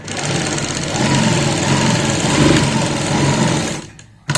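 A sewing machine stitches a straight seam with a loud, close, steady mechanical chatter that runs continuously and halts abruptly just before the end.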